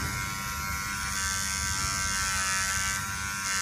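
An electric hair clipper buzzes steadily and close during a razor-cut haircut with clippering, holding a continuous motor hum with a slight shift in tone as it works through hair.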